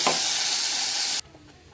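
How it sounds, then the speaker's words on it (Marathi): Mustard seeds, curry leaves, cumin and tomato dropped into hot oil give a loud burst of hissing sizzle that stops abruptly about a second in, leaving a faint low background. "आता मोहरी टाकूया याच्यामध्ये आपण. कढीपत्ता, जिरं, आटलेले टॅमॅटो सगळे टाकायचे तेलामध्ये"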